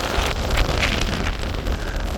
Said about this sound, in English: being absolutely buffeted by the wind